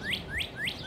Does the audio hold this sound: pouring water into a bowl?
no